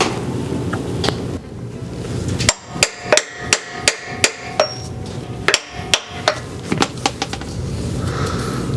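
Hammer blows driving a lip seal into an RB26 engine during a rebuild: about a dozen sharp metallic strikes in an irregular rhythm, close and loud, over a steady background hiss.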